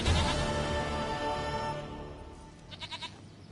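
A goat bleats in The Witcher 3: one long wavering bleat up close, fading toward the middle, then a few short pulsing tones near the end.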